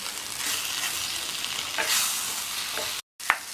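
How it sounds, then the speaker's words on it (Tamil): Broad beans with sambar masala sauté in a pan, making a continuous close sizzle with stirring scrapes and a brief dropout near the end; no voices. "இதையும் மறுபடியும் நல்லா ஒரு 2 நிமிஷம் போல் வதக்கி விட்டுக்கலாம்"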